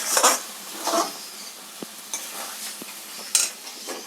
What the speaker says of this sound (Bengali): হাই ফ্লেমে নাড়াচ্ছি, এখন নাড়াচাড়া করছি হাই ফ্লেমে।